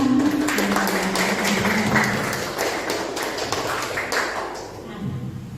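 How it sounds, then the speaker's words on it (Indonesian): A group of teachers in a classroom coaching session applauds together, producing a dense wash of clapping that is loud at first and then slowly fades, with voices mixed in. "Kita kasih aplaus untuk kita semua."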